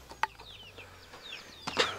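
Chickens cluck around a rural house yard in short, moderately faint calls, with a sharper squawk early on and a louder burst near the end over low outdoor background noise.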